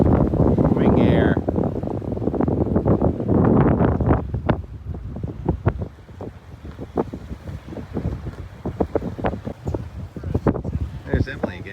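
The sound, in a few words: strong wind blowing on a boat off Nantucket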